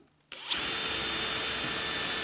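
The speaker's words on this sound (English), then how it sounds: "And we'll pre-drill because I learned my lesson." A power drill pre-drills into dry stud pine while building a cornhole board, a steady high-pitched whine that spins up after a brief quiet start and holds loud and close without a break.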